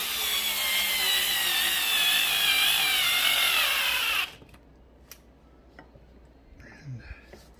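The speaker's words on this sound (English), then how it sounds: "Going to mount the screws here." A power tool drives screws into a recliner handle mount, whirring loud and steady for about four seconds before stopping abruptly, followed by quiet handling clicks and a soft voice.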